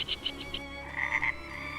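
Frogs croaking in short rhythmic bursts, a quick series of four trilled calls followed by a second group of three, clear and close over a faint background.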